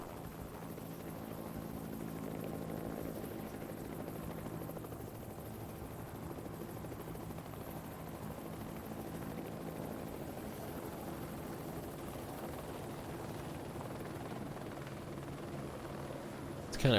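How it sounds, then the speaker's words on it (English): Helicopter in the Project Zomboid zombie survival game, a steady droning rotor and engine hum that stays constant and fairly distant overhead the whole time, with no talk. "Helicopter."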